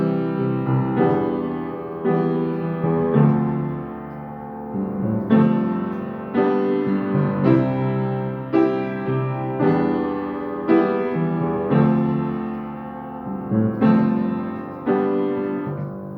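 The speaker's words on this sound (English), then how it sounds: "I kind of had this little piano melody part" Solo piano playing a gentle melody over sustained chords, a songwriting sketch for a song; phrases repeat in a steady pattern at moderate loudness, with no voices.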